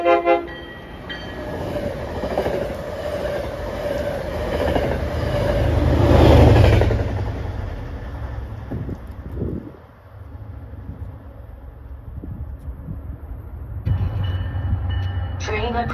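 An Amtrak or MBTA train passes through Route 128 station, a loud rolling rumble that swells to a peak and then eases off, with a fresh surge of rail noise near the end.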